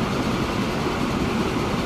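A freight train rushes past in the Transport Fever game, a steady, dense rumble and rolling rail noise, loud and close, with no break or talk.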